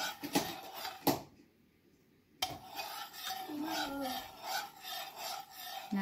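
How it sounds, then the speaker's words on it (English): Raspberry jello powder being stirred in a bowl, a steady close scraping and rasping of spoon against the bowl that stops briefly and then carries on continuously. "So you have to stir for a long time until all the powders are melted."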